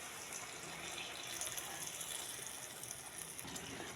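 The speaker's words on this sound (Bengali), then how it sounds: "এটাতে আমি একটু অল্প করে জল দিয়ে দেবো।" A little water poured into a pan of chili soybean gives a steady rushing, splashing hiss that lasts the full four seconds, with no talking.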